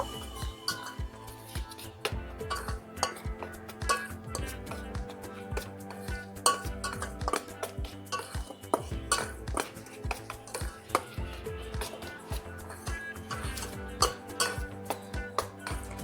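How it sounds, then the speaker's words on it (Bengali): Vegetables being mixed with ground black pepper and salt in a bowl, a spoon clinking and scraping the bowl in quick irregular strokes, close and continuous without talk. "সামান্য গোলমরিচ গুঁড়ো দিয়ে ভালো করে আগে মিশিয়ে নেব।"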